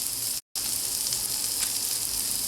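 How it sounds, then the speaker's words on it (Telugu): Onions fry in a pan as they brown, a dense, even hiss of sizzling oil heard up close, interrupted once by a short dropout near the start, with no talking. "ఉల్లిపాయలు కొంచెం బ్రౌన్ అవ్వాలి"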